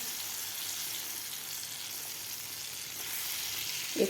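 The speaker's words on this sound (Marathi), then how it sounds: "सुरुवातीला आपल्याला दोन ते तीन मिनिट हे मिश्रण परतून घ्यायचं आहे" A mango barfi mixture of mango pulp sizzles softly and evenly in a pan as it is sautéed and stirred, with a brief clunk of the spoon near the end.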